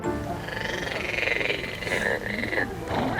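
Frogs croak by a fairy-tale pond in a flowering park. The chorus sounds close, with overlapping croaks in several uneven bursts.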